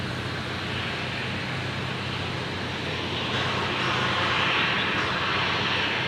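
A Qatar Airways Airbus A380 departing Brisbane Airport, heard as a steady, broadband jet engine roar that swells louder partway through, with no talk.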